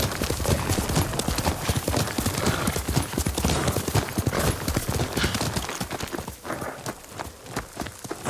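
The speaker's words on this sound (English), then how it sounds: "Yuriko's horse" Hooves of Yuriko's horse clip-clop steadily in the video game Ghost of Tsushima, a dense, close rhythm of hoofbeats with faint background ambience that thins toward the end.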